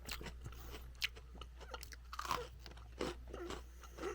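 A chocolate-covered pretzel Oreo cookie is bitten into and chewed, giving close, crisp crunches at irregular intervals against a quiet hum.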